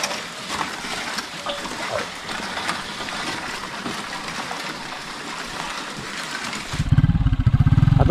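A motorcycle engine on a farm with water buffalo kicks in loud and close near the end, a rough pulsing rumble that follows several seconds of softer splashing and background noise.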